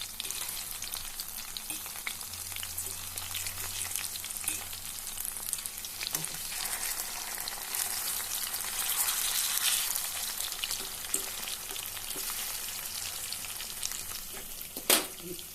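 Brinjal and pointed gourd frying in a pan give a steady, close, crackling sizzle with fine popping throughout, a brief clink of a utensil near the end.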